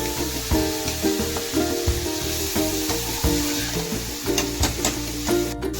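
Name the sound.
vegetables sizzling while sautéing in pan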